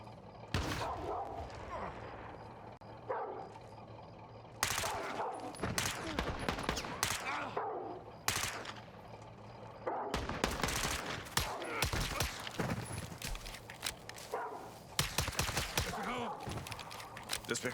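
Call of Duty Modern Warfare 2 (2022) gunfire on the Borderline mission at Veteran difficulty: bursts of automatic shots and scattered gunshots, close and sharp, recurring in clusters with someone talking over them.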